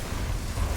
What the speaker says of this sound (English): That was a bunch of explosives.